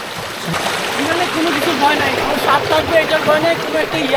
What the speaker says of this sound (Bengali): পানির মানে তো ভালোই স্রোত আছে দেখতেছি